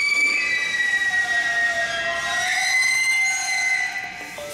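A Nagano Electric Railway 1000 series limited express train pulls into a station, its wheels squealing loudly in high, sustained metallic tones against a rumbling background before easing off near the end.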